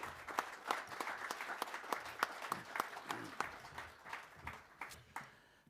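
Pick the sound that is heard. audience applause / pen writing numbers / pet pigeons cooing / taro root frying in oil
audience applause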